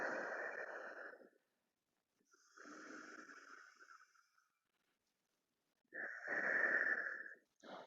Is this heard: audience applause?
no